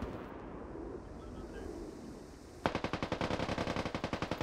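Rapid bursts of automatic gunfire from friendly troops in the military shooter Squad break out suddenly after a stretch of low rumbling ambience, a steady rattling stream of shots that is loud and close.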